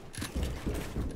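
Pickaxe strikes in a laggy online video game land as a series of dull, irregular thuds and mechanical clicks, moderately loud and fairly close, with no voices.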